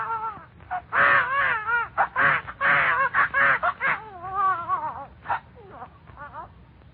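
A baby-crying sound effect in a wartime Armed Forces Radio Christmas special gives repeated wavering, wailing cries in quick bursts that are loud and close, then trail off into a few fainter whimpers.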